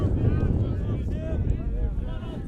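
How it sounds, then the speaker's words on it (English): Gusting wind buffets the microphone in a steady low rumble throughout at an outdoor college baseball game between Tufts and Middlebury on a very windy spring afternoon, under tonal whistling noise. "Very windy afternoon here."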